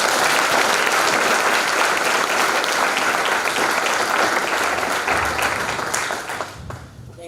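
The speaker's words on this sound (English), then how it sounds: "I think it's best for us to just give a round of applause." Sustained audience applause after an academic inaugural lecture at a professorial inauguration, dense steady clapping from a large hall crowd that thins and fades toward the end.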